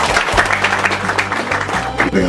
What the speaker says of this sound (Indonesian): Tepuk tangan untuk beliau dulu.